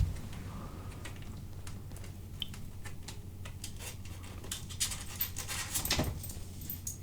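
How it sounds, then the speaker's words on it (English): A pet dog pants while climbing steps indoors, quick soft breathy puffs with faint scuffs and clicks of paws, close but quiet over a low background hum, with no talking. "my dog's just trying to get up some steps and she's finally done it"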